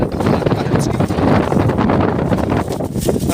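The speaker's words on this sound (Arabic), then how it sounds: "راه الريح زاد الهواء." Strong wind gusts across desert ruins at Ksar El Charef near Sidi Aissa, roaring and buffeting the microphone in a loud, continuous rush with rough low rumble and a faint voice beneath.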